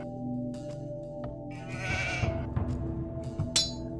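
Sheep bleat in the Age of Empires 2 strategy game as a bleating call rises over a steady, droning game soundtrack, with a sharper bleat near the end.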